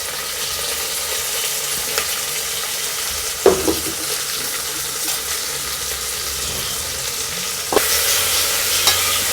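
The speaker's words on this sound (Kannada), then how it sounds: "ಕಟ್ ಮಾಡಿಟ್ಟಂಥ ಟೊಮೆಟೊನ ಸಹ ಅದಕ್ಕೆ ಹಾಕ್ತಿದ್ದೇವೆ." Chopped tomatoes tipped into a pan of frying potatoes for hotel-style idli sambar, giving a steady close sizzle with stirring scrapes and a couple of sharp clatters.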